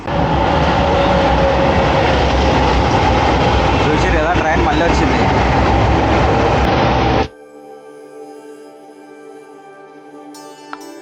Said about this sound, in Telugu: ట్రైన్ వెళ్తుంది చూడండి